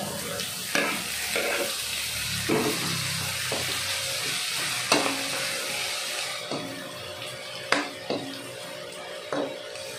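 Adobong sitaw, string beans adobo, is stir-fried in a pan with a steady sizzle and repeated sharp clanks and scrapes of a utensil against metal, fairly close and without talk.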